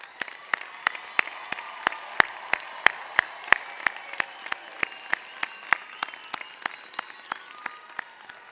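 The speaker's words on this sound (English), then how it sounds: "Ladies and gentlemen, a round of our applause for our graduating class." Applause at an NYPD police recruit graduation ceremony: crisp, evenly spaced claps ring out in a steady rhythm over a soft hall ambience, with no talk.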